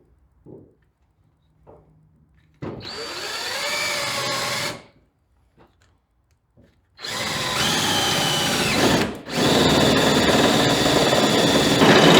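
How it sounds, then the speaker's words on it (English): A power drill whirs in two long bursts while drilling on the front clip of a 1940 Chevy coupe, its pitch rising as it bites in, separated by quiet moments with small clicks. "I'll get this one drilled"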